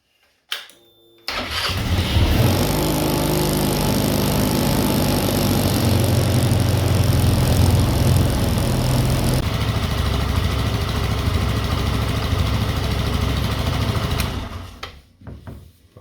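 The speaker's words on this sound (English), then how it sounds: "start the engine, let it run for a few minutes and see how we go." A Royal Alloy GT125 scooter engine with a newly fitted exhaust starts up and settles into a steady, loud idle close by, running evenly for over ten seconds before cutting off.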